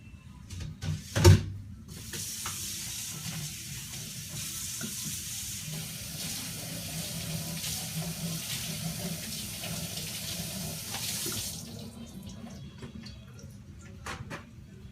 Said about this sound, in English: So I'm gonna rinse that off and wash and dry it off.